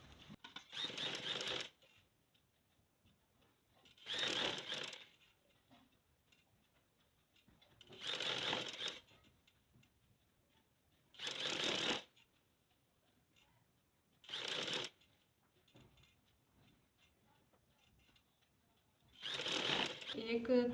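A sewing machine stitches lace onto a folded fabric edge in six separate bursts of rapid clatter, each lasting about one to two seconds, with quiet pauses between them.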